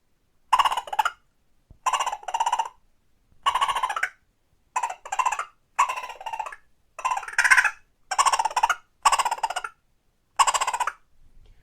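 Repeated harsh, raspy chattering bursts of a squirrel rutting call, about ten of them at fairly regular intervals with short silences between, loud and close.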